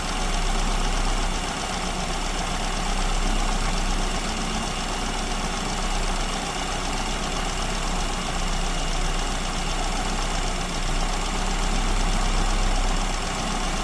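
An engine idles steadily while its idle mixture is adjusted, producing a continuous, close, broadband rumble with a low throb that stays even throughout, with no talking.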